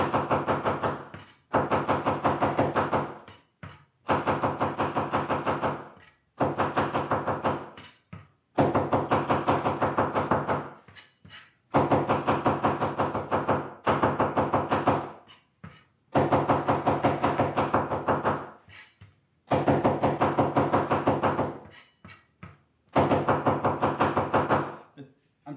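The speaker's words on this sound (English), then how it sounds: "Chopping this stuff a bunch, I know, but chop it up really, really good." A knife chops fresh cilantro on a cutting board for salsa, making steady rapid knocking bursts in repeated runs of a few seconds each, separated by short pauses, close and fairly loud.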